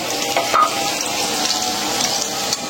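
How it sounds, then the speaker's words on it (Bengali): Onion, garlic and green chilli fry lightly in a pan, giving a steady, moderate sizzling hiss with a small knock near the start. "এটা হালকা ভাজাতে দিলাম পেঁয়াজ আর রসুন কাঁচামরিচ"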